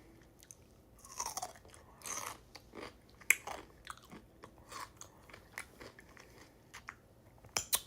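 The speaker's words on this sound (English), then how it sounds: "I want to bite." A pickle being bitten and chewed: a series of wet, crisp crunches spread irregularly over several seconds, close up and fairly loud against a quiet background, with no talk.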